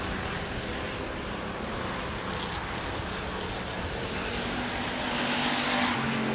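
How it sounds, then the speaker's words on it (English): Hobby stock race cars circle a dirt speedway during a heat race, a steady broadband roar of several engines running single file at a distance, swelling slightly near the end, with no talk. "Single file right now around the speedway in our heat race action for our hobby stock field"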